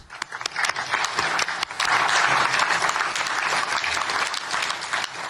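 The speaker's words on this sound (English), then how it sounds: "Weak applause." Applause at a political gathering marking the launch of the Board of Peace, a scattered, uneven burst of clapping with individual claps standing out, swelling after a brief start and holding fairly steady.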